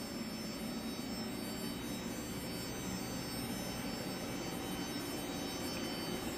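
A water jet cutter cutting rubber: a loud, steady high-pressure hiss with a dense roar fills the whole stretch, unbroken and close, with no voices.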